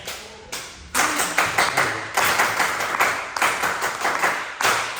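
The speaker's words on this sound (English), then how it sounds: "Let's give Dave the Turner clap" An audience at a Turners society gathering in St. Louis gives the Turner clap, several bursts of rhythmic group clapping in a hall, loud and close, with short pauses between volleys.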